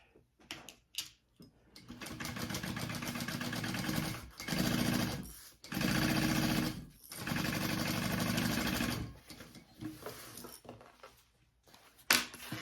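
A sewing machine runs in several sustained bursts of steady, rapid mechanical stitching, stopping and restarting, as a bag is stitched closed; close by, with small handling clicks between runs and no talk.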